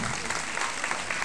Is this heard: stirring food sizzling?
no